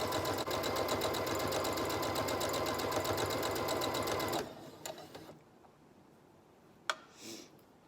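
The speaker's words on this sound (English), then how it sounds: "So we're gonna go and sew like this for a little bit." Sewing machine running fast on fabric ties for hospital masks, a steady close rapid stitching rattle for about four seconds that stops abruptly, followed by faint handling noises and a brief clack.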